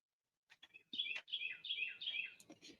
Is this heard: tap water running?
no